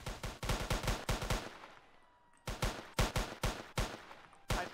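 Rapid bursts of gunfire in the police game Emergency Response Liberty County, loud and close, firing in quick repeated volleys, then a short pause before another string of rapid shots.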